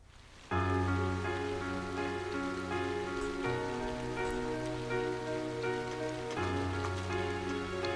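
Steady rain falling in the video game Trails of Cold Steel, a constant hiss under a sustained tonal music layer, with no talking.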